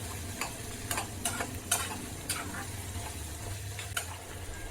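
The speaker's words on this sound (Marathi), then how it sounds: "आता तेलामध्ये परतून घेऊया" Spice powders sizzle and fry in hot oil, a soft steady crackle with occasional scraping stirs of a spoon against the pan.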